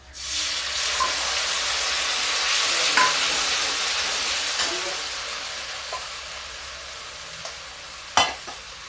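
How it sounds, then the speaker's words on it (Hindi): Garlic ginger paste sizzles loudly in a hot pan with green chilies over high heat, a steady frying hiss with a few scraping stirs, and no talking. "अब देखिए, डालते हैं लहसुन अदरक का पेस्ट।"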